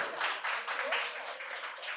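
Audience clapping loudly at a quiz competition held at a medical college and hospital, a dense, sustained burst of many hands that carries on evenly throughout.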